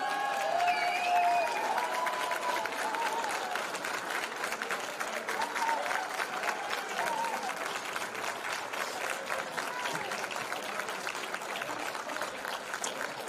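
Dinner-event audience applauding steadily throughout, a dense wash of many hands clapping at even loudness, with faint voices mixed underneath.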